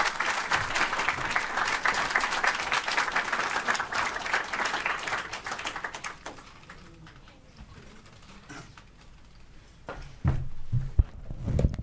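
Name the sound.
audience applause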